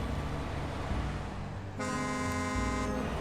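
Truck horn in a driving game blares loud and steady for about a second and a half, following a stretch of constant engine drone.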